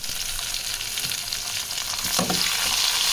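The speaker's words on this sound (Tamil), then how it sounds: "நம்ம ஆல்ரெடி கட் பண்ணி வச்சுருந்த வெங்காயமும் எல்லாம் சேர்த்து இதோட ஒன்றாவே சேர்த்துக்கலாம்" Chopped onions and tomato frying with gongura leaves sizzle loudly in a pan, a continuous hiss with stirring scrapes that grows slightly louder near the end.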